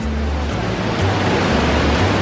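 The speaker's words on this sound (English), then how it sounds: "So the waterfalls are behind us." Anna Ruby Falls, a waterfall in Unicoi State Park near Helen, Georgia, in the Chattahoochee National Forest, gives a steady, loud, broadband rushing roar with no pauses.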